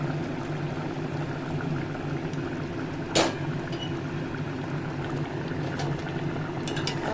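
Eggplant and shrimp curry gravy bubbles steadily in a pot, a continuous soft liquid simmer with one brief sharper splash or clink midway, heard alone without talk.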